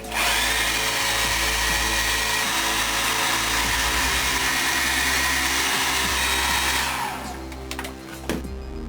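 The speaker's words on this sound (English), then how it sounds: "Blast it with the hairdryer." A hairdryer blasts loudly and steadily on a lightsaber replica part freshly weathered with aluminum black, a constant roaring whir that cuts off near the end, followed by a few light handling clicks.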